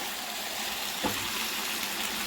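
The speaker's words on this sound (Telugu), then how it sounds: "ఇలా మనం చికెన్ని ఒకసారి ఇలా తిప్పుకున్నాం చూసారా వాటర్ అంతా బయటకు వస్తుంది" Chicken stirred in a pan as its water cooks out, giving a steady wet sizzle with one brief scraping stir partway through, close and alone.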